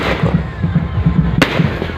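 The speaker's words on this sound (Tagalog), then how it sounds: "patuloy na pag bibigay liwanag ng mga fireworks na to sa kalangitan" Fireworks bursting in the sky at an outdoor political grand rally, a rapid string of close, loud pops and crackles with one sharp bang standing out.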